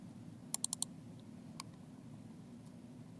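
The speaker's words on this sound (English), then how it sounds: "double click on it" Quick pair of computer mouse clicks followed by a second close double click, crisp and near over a quiet room hum, with a few isolated clicks afterward.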